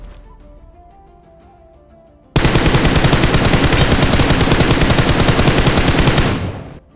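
Sustained automatic gunfire in the battle royale game PUBG, a rapid unbroken burst of loud shots lasting several seconds after a quieter stretch of faint game ambience, ending abruptly.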